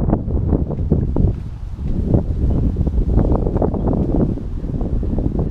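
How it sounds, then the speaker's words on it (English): Outdoor wind buffets the microphone in heavy, uneven low rumbles and gusts, loud and constant throughout with no voices. "It's windy."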